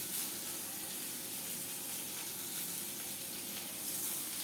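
Chopped onions, dried chili and garam masala frying in a pan give a faint, even sizzle with a soft hissing wash, steady and low-level from start to finish with no clear breaks.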